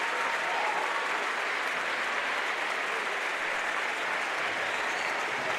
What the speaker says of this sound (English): The Royals fans on their feet applauding their team